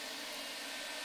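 A vacuum cleaner runs off an inverter battery bank, giving a steady, loud broadband whoosh with an even motor hum that holds constant throughout, with no voices.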